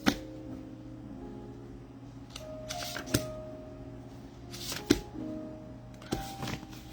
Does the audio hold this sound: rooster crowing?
no